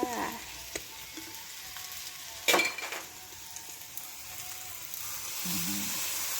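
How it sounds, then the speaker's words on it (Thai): Pad thai noodles stir-fried in a pan, a soft steady sizzle with scattered utensil scrapes and one louder clatter partway through, close and quiet, with no talking. "เราก็ผัดเลยนะคะ"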